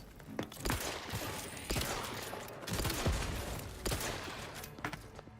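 Gunfire in The Outer Worlds 2 cracks out in irregular sharp bursts and single shots, some close and some farther away, with a voice heard between them.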